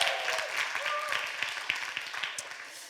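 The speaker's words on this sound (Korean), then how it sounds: "지금 박수 한번 쳐줘요" A youth winter-retreat audience at a church gathering claps, a fairly faint, scattered patter of hands with a few voices mixed in.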